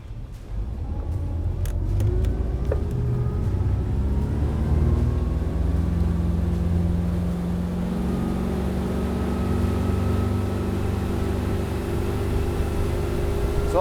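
A Maxum 2600 SE boat with a 5.7 engine accelerates onto plane, its loud close engine rising in pitch and power, then settling into a steady drone with rushing water beneath.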